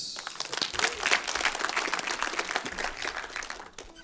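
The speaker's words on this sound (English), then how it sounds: "Please give a big round of applause to Hanno Embregts" A conference audience at an ignite-style talk session claps, a steady wash of applause that rises quickly, holds, then tapers off.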